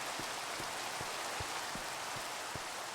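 Steady rain hisses down in a blocky Minecraft-style skyblock game world, a dense even wash of falling water with scattered louder drops pattering at a regular pace, no voices over it.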